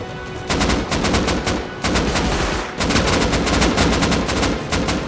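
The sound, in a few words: gunfire during a raid in the video game Rust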